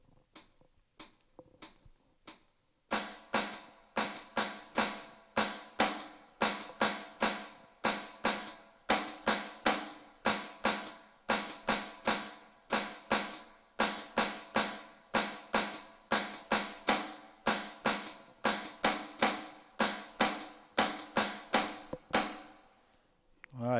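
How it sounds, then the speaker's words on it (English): A steady stream of sharp drum strokes in a paradiddle pattern with regular louder accents, played alone in a driving repeating pattern over a light clicking clave pulse. "the paradiddle accent pattern is going to sound like this"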